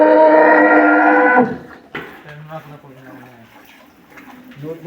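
A dairy cow on a local farm gives a long, loud moo up close for about a second and a half, followed by quieter farmyard sounds and people talking in the background.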